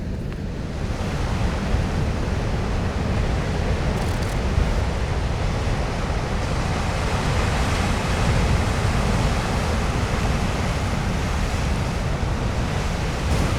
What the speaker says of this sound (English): oh my God, look at those waves